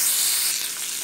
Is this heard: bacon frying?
yes